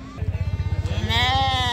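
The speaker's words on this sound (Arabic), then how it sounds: "معانا خروف وحلية اهو" A young sheep about four months old bleats in a rapid, pulsing cry, close and loud, followed by a higher, wavering bleat.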